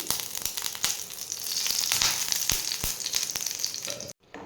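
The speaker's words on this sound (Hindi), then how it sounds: "तो चलिए हम इनको भूनना शुरू करते हैं।" Spices frying in a pan of ghee and oil for malai kofta, a dense, loud crackling sizzle with scattered pops and spoon taps, no voices, cutting off briefly near the end.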